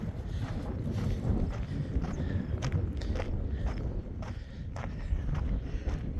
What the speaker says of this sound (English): The wind is blowing, so it's keeping it a little cool out here